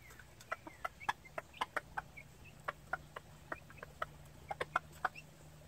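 A hen gives soft, scattered clucks while gamefowl chicks peep in quick, high chirps all around, close by, over a faint low hum.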